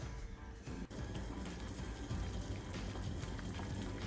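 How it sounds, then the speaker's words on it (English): Snow peas boil in a pot of water on a home stove, giving a faint continuous bubbling and rushing hiss with one brief knock near the start. "Your snow peas are now boiling"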